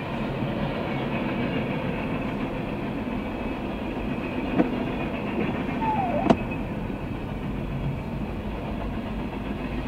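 A freight train of boxcars, covered hoppers and gondolas rolls past a snowy railroad crossing with a steady, loud rumble and faint wheel clicks, plus a couple of sharp clanks and a brief squeal partway through.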